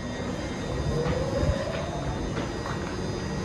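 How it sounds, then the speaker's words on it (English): A Hitachi AT300 train's electrical system comes up under pantograph power, a rising whine sweeping upward over a steady low hum and hiss, with a few faint clicks. "And that's the sound of an electrical system being powered up."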